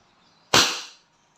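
A single sharp crack from a Wingun 708 airgun revolver with a 2.5-inch barrel, fired single action, loud and close, then a short decaying tail before silence.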